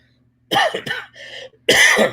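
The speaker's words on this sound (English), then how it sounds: "Still coughing. Excuse that, but it is what it is." A person coughs and clears their throat in a few harsh bursts close to the mic, with a short pause between them.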